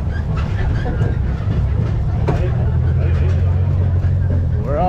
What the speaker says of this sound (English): Riding in the train around the resort.